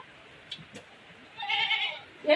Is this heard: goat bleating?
yes